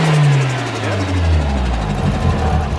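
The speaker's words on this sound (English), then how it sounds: "This thing sounds amazing when you do give it gas." A 1989 Nissan Silvia S13 with a CA18DET turbo four-cylinder revs loudly up close, its pitch climbing and then falling back as the throttle is blipped, with voices talking over the engine.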